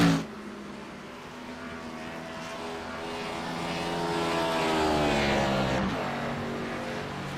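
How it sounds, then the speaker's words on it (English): A race car engine at Texas Motor Speedway revs continuously, its whine climbing steadily in pitch, then dropping sharply near the end as it downshifts. "Millett downshifting again. You heard the RPM skyrocket through there."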